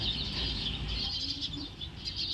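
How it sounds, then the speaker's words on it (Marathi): Sparrows chirp and squabble in a dense, continuous chatter of high tweets that runs throughout, fairly close and lively, with a low rumble of background noise beneath and no talking. "काय करतात चिमण्या भांडणं करतात"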